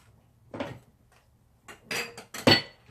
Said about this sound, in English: Bear with me, I have to dig in my drawer.